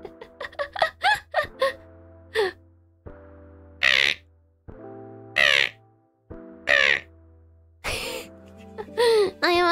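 Crows caw in a string of harsh, separate calls, several quick ones at first and then spaced bursts, loud and close with nothing else heard between.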